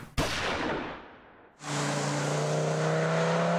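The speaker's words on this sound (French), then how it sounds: "au moins le 5 cylindres est de série et il vous ravit dès les premiers kilomètres" An Audi five-cylinder engine fires up with a sharp bang, then settles into a loud, steady, droning run with strong harmonic tones, close and uninterrupted by talk.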